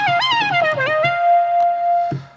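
A Studiologic Sledge synthesizer plays a lead sound, a bright, buzzy tone that starts with quick gliding notes, then holds one long steady note before a short low stab at the end.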